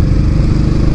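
Royal Enfield Classic 500 motorcycle cruising at about 30 with revs kept low, its engine a loud, steady low thump with a rapid even beat and no voices.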